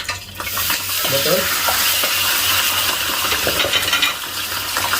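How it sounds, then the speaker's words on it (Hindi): Mutton pieces browning in about a cup of hot ghee in a wok, a steady loud sizzle and frying hiss throughout with a few scrape-and-stir sounds, no talk. "मटन को मैं अच्छी तरह ब्राउन करूँगा, फिर इसमें डालूंगा दूसरे मसाले वगैरह"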